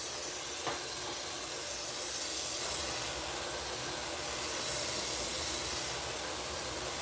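Touch-up spray gun laying brandywine paint across a surface, a continuous soft airy hiss running for about seven seconds with no voices.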